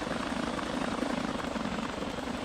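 Steady, loud helicopter engine drone with a rapid rotor chop in GTA 5, continuous and close, with nothing else audible.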